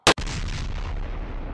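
A single loud, sharp shot from a Kahr Arms PM40 pistol, fired close by, cuts off abruptly and leaves a long rumbling echo behind it.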